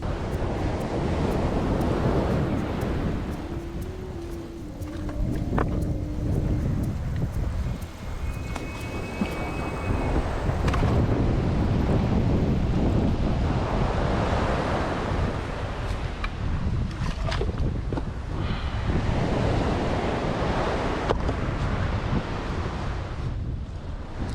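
Ocean waves wash against the shore of a remote island under steady wind buffeting the microphone, a continuous roaring surf with swells rising and falling over about 24 seconds, and no voices.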